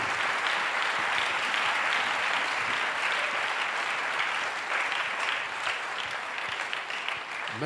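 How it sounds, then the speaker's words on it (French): A church congregation claps during Sunday worship in Abidjan, a steady dense wash of many hands that goes on without pause throughout. "Oui, acclamez, c'est une victoire. Yes, clap."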